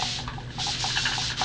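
A wet wipe is rubbed over a paper cover to clear off excess paint, giving a soft, continuous close scrubbing with faint swishing strokes and no voices.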